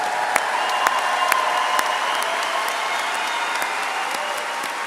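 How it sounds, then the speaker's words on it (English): A large crowd claps steadily at a spring 2025 graduation ceremony in a broad, sustained wash of applause with sharp individual claps standing out. No one speaks over it. "That applause is going to be happening all morning for you all."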